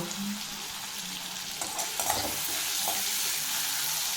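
Tomato added to a hot pan for paneer curry, heard as continuous close sizzling and spitting oil, with a few soft stirring scrapes in the middle and no talking.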